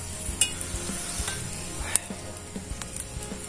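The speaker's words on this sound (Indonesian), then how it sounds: "Ini kita tempe goreng aja." Tempeh frying in a pan over a campfire-style outdoor kitchen, a steady sizzle with scattered scraping clinks of the spatula stirring, close and moderately loud.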